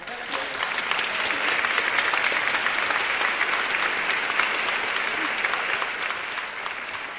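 A town hall audience applauds, dense and steady clapping that fills the room evenly for several seconds at close range, tapering slightly near the end.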